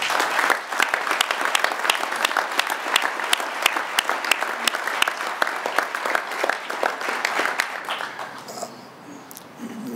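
Sustained audience applause at a 2014 event announcing the Tesla Gigafactory site, dense steady clapping filling the room for most of the stretch before tapering off near the end.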